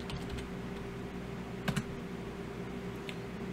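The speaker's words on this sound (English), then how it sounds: "we're going to type in sudo apt upgrade" Faint, sparse computer keyboard keystrokes entering a terminal command, a few soft clicks including a quick double tap, over a steady low background hum.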